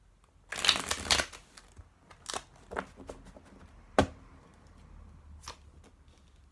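Quick riffling bursts of tarot cards being shuffled close by, a dense flurry at first followed by several sharper, separate snaps and taps.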